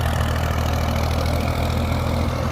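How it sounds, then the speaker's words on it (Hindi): Tractor engine running steadily during field preparation for cultivating a crop, a continuous low rumbling drone that stays loud and constant throughout with no talk. "ट्रैक्टर की स्पीड को आप लोगों ने तेज़ रखना है।"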